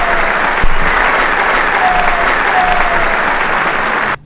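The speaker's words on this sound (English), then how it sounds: "I think I might want to even use the applause too." Applause sampled from a jazz record, a dense, loud wash of clapping from a crowd with a sharp knock near the start, running steadily before cutting off abruptly.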